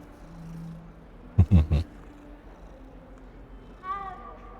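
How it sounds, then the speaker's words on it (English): A little kitty cat in Hogwarts Legacy gives a short, clear meow near the end, following a few thumping game sounds and a low hum; the cat call is close and brief. "It's a little kitty cat."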